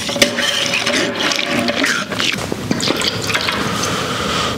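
Dirty radiator fluid being siphoned out of a motor, a steady wet trickling and dripping with small gurgles and squishes, fairly close and continuous throughout.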